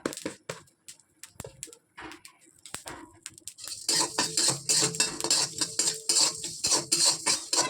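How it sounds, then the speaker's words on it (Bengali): Panch phoron and a dried red chilli fry in a hot kadai for a vegetarian dish, with a soft hiss that swells halfway through under steady, rhythmic clinks of a metal spoon stirring against the pan, close by. "কড়াইটা গরম হয়ে গেছে এবার হচ্ছে পাঁচ ফোড়ন দিয়ে দিলাম আর শুকনো লঙ্কা একটা এইটা ভাজা ভাজা হোক"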